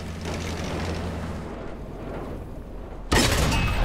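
A tank cannon shot in World of Tanks, a Pz.Kpfw. 38 (t) n.A. firing during battle: a loud, broadband boom bursts in sharply near the end, following a stretch of rumbling engine and ambient battle noise.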